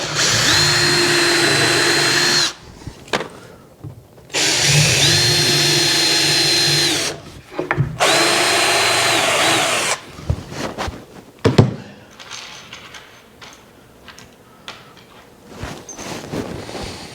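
A power drill drives square-drive screws into a spalted sycamore wood bar, three sustained whirring runs of a few seconds each with pitch shifting under load, followed by clattering handling knocks.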